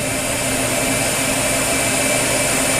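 A Star SR-20RIII CNC Swiss lathe spindle turns at 1,000 RPM with a steady, even, broadband whir that stays at the same level throughout, heard up close and without talk.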